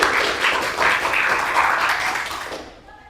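A classroom of students gives a classmate a round of applause, a bright, fairly loud burst of clapping that holds steady for a couple of seconds before trailing off.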